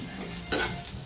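Roasted green chickpeas are stirred and tossed in a hot pan, giving a short, close burst of sizzling and scraping.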